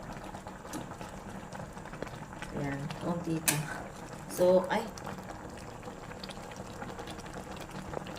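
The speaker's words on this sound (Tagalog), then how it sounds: "Kumukulo agad siya." A pot of pakbet, a vegetable dish, bubbles softly at a low simmer, with a few louder clinks and a brief voice speaking over it.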